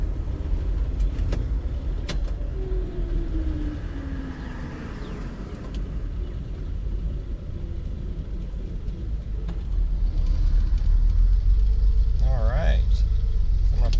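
Car with a three-on-the-tree column manual gearbox and 308 gears driving on the road, a steady low engine rumble and road noise as the driver lifts the throttle and downshifts, while someone talks throughout.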